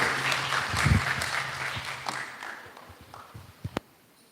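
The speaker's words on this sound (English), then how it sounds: "A big round of applause to him, ladies and gentlemen." Audience applause at an alumni association gathering after a sing-along of nostalgic songs, a dense wash of clapping that is strongest early and fades out, with a couple of sharp knocks near the end.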